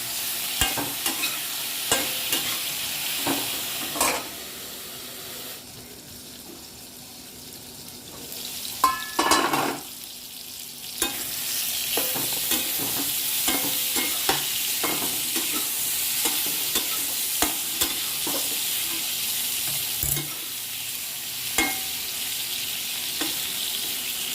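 Brinjal pieces fry in oil in a pan with a steady sizzle, while a spatula stirs and scrapes at irregular moments; close and fairly loud throughout, with a brief lull and a few louder clatters, no talk.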